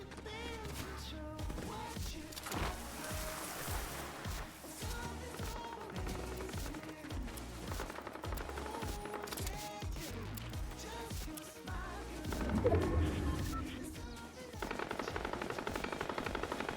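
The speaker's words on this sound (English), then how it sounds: "Somebody shooting over here." Fortnite gunfire: rapid bursts of automatic shots and single cracks repeating throughout, loud and close, with game sound effects and a louder exchange near the end.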